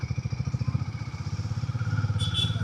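Motorcycle engine on a rural road, a steady mid-pitched pulsing drone that builds slightly in loudness, heard up close with no talk.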